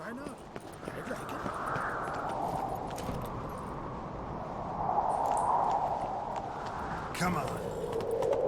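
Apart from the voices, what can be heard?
horse Roach galloping hooves, Witcher video game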